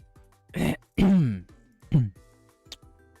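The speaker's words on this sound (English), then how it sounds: "I've been coughing." Several rough coughs and throat clears in close succession, loud and near, separated by short pauses, with a small clearing sound at the end.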